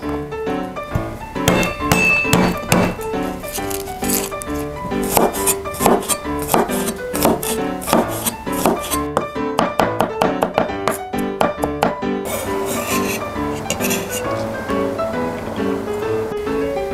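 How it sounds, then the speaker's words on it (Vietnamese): Knife mincing garlic and chili on a cutting board, rapid irregular chopping taps in bursts with brief pauses, close and fairly loud, with no talking over them. "Sau đó chúng ta băm tỏi ớt để lát nữa mình làm phần nước sốt."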